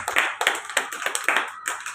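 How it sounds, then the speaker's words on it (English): A group of people claps hands together in a room, brisk uneven applause with sharp overlapping slaps repeating steadily throughout, close and fairly loud. "Claps, everybody."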